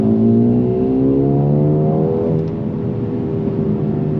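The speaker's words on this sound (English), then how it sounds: "You got a little bit of crackle and pops from that 4-cylinder." A Mercedes-Benz CLA 35 AMG with its turbocharged 4-cylinder engine, driven hard on a curvy road in Sports Plus mode, gives a loud, steady revving drone whose pitch rises and falls, with little distinct popping audible.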